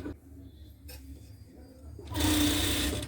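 Sewing machine stitching a salwar, a steady low mechanical hum that surges into a louder, brighter whirring run near the end, close by.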